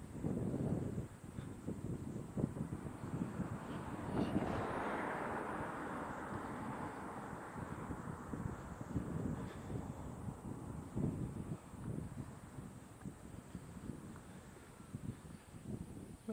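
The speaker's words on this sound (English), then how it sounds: "it's getting quite windy now, so apologies if it's a little bit blowy" Steady low, rumbling wind buffets the microphone outdoors in Connah's Quay, North Wales, with gusty bursts and rough thumps and no clear voices.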